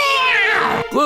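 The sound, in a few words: cat meowing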